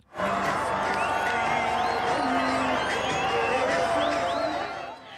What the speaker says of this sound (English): Music playing while a large crowd of Palestinian spectators cheers.